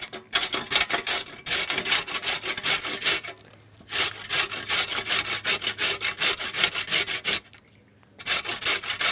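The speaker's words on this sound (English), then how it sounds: "And just on that big side, you're gonna go ahead and make some nice pieces. And we'll just grate" Carrots scrape across the coarse side of a hand grater in quick rhythmic strokes, a rasping run of near, loud passes broken by two short pauses.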